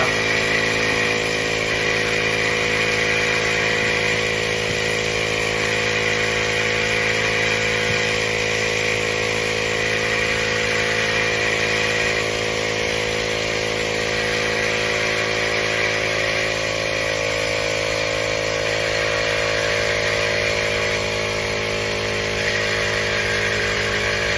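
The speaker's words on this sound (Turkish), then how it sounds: "Ondan sonra elektrikli pompayı çalıştırdığımızda" An electric pump inflates a basketball, an Iranian-made Strong Players ball, with a steady loud motor whine and buzz running continuously without a break, close and alone with no talking.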